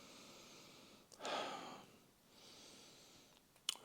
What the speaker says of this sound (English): Let's sniff this one.